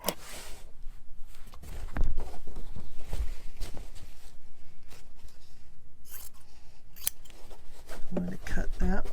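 Scissors cut apart quilt fabric pieces, close crisp repeated snips in a rapid rhythmic run, with faint speech in the background.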